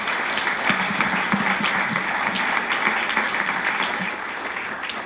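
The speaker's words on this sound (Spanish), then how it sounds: "vamos a recibirlo con un fuerte aplauso" An audience at a colloquium on scientists converted to Christianity claps to welcome the speaker, a dense, even, fairly loud round of applause that holds steady for several seconds and tapers slightly at the end.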